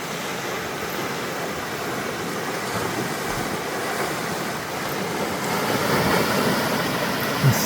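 Rushing river water in flood in Bolivia, heard as a steady, loud broadband roar that swells slightly toward the end, with no voices over it.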